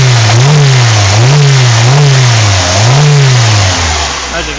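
An old car that burns oil badly, started after sitting for six months, revs up and down repeatedly at close range, its engine note rising and falling in several loud surges before easing back toward idle.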